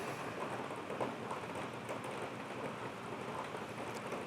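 Steady rain falls outside in a dense, even hiss of raindrops with no voices, holding constant throughout.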